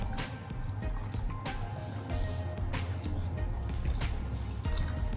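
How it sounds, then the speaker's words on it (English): Cornstarch is stirred into a pot of coconut milk hominy corn porridge, giving continuous wet sloshing and squelching with occasional sharper knocks of the spoon against the pot, close and fairly loud. "you want to make sure you're stirring it at the same time so it don't create no lump inside of it"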